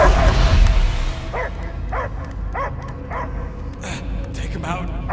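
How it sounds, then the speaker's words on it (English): A dog barks repeatedly in a steady rhythm, each bark sharp and close, over a low rumbling background after a loud opening swell, from the video game Marvel's Guardians of the Galaxy. "I hear only barking."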